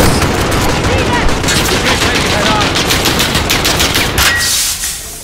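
Loud, sustained automatic gunfire in Call of Duty: Modern Warfare (2019), rapid bursts of shots and impacts rattling without break, easing off only in the final second.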